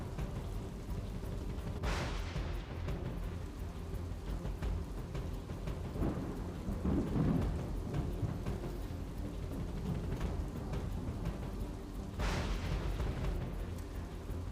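Heavy rain pours steadily over Surat city, a dense, constant roar with a few low rumbling booms rising out of it, with no voices.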